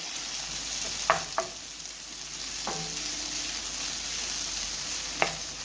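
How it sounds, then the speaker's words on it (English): Vegetables sauté in a pan with a steady, even sizzle, while a few sharp clinks of a utensil against the pan land at scattered moments. "So while that is sauteing"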